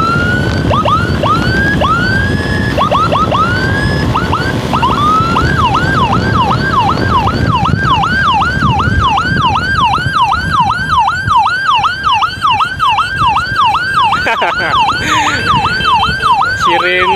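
Ambulance siren wails loudly and continuously during an emergency escort on the road, a rapid repeating yelp cycle close by over steady traffic and engine noise.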